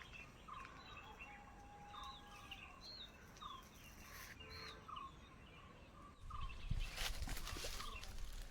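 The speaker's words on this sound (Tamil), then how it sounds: "குருவிங்களோட சவுண்டு நல்லா இருக்குது" Sparrows chirp in short repeated bursts on a farm in Kodaikanal, faint and distant over a soft outdoor hush, with a louder rustle of nearby activity near the end.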